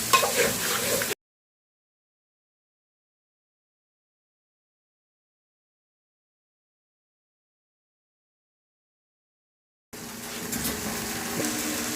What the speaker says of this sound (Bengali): এখন এটাকে নেড়ে দিব আবার।